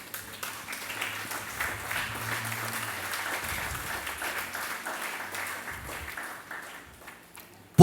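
A church congregation breaks into sustained applause, a steady wash of clapping from many hands filling the room for several seconds before fading out, with no talking over it.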